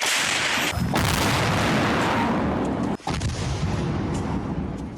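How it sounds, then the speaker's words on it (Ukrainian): Heavy booming blasts from a large gun, a deep concussive roar at the start and another sharp report midway, close and loud with rumbling aftermath. "Ну, побігли до гармати. По в вділа? Так, да, в діла. Гармата! Постріл!"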